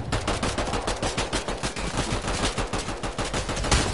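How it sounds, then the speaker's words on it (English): Rapid bursts of automatic gunfire in the Fortnite battle royale game, dense and continuous for several seconds with sharp, loud repeated shots and no talk. "Somebody shooting from behind me."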